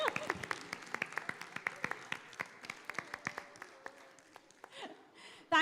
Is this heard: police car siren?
no